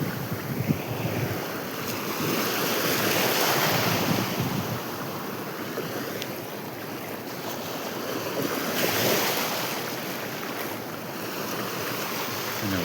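Sea waves wash steadily onto the shore while strong wind buffets the microphone, a loud, continuous roar of surf with no voices.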